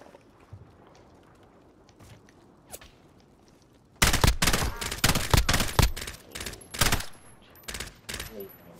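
Dense bursts of gunfire from the Warzone video game erupt partway through after a quiet stretch, with rapid, loud shots in clusters and a few faint earlier pops.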